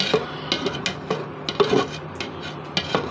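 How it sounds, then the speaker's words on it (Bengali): A spoon stirs and scrapes through payesh, a rice pudding of polao rice, jaggery, sugar, ghee, cinnamon and bay leaf, in a pot. It makes close, rhythmic scraping and knocking strokes against the metal with no speech. "এখন নাড়াচাড়া করে দিব"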